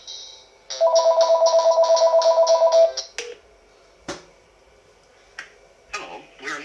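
A Panasonic KX-TG6541B DECT 6.0 Plus cordless handset rings loud and close in a rapid burst of pulsed electronic trills lasting about two seconds, followed by a few scattered clicks and faint sounds.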